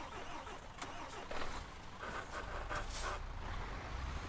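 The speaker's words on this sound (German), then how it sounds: "Unser Motor macht langsam schlapp hier." A truck engine in Euro Truck Simulator 2 malfunctions with a low, uneven drone and sputtering bursts, joined by a brief hiss and mechanical clatter. The steady in-game engine noise is moderately loud, with no talking.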